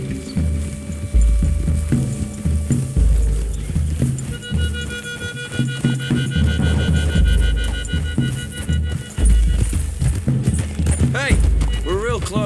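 In the video game Red Dead Redemption 2, steady clip-clop of horse hooves at a walking pace, close and continuous, with people talking over the top.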